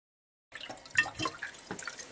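Water swirls and drips in a glass, giving faint, scattered close drips and small liquid sounds over a quiet background.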